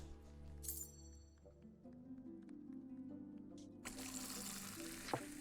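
Beer poured into a pint glass at a tavern tap in the video game Fable 2, a steady liquid pour with game chimes early on, swelling into a louder foamy rush near the end.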